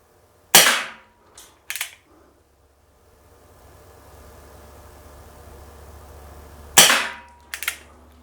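An Umarex Legends Wildcard 45 CO2 airsoft revolver fires six rounds: sharp, loud pops in two groups, spaced by pauses for single-action cocking, with a low hum between them.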